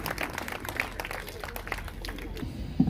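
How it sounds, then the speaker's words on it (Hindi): An audience claps at an RWA oath-taking ceremony in Rohini Sector 28, Delhi, a modest, scattered round of applause at mid distance with voices mixed in. "प्लीज मेरे लिए जोरदार तालियां"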